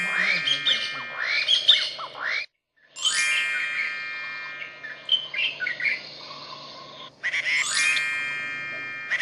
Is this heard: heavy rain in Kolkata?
no